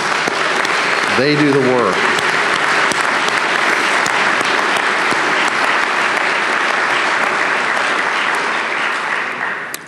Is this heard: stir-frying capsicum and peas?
no